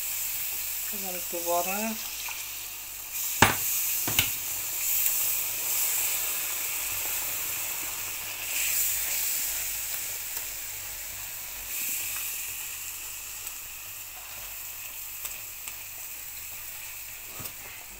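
Syrup poured into a hot pan gives a steady, fairly loud sizzle and hiss, with a few sharp clinks and brief voices over it.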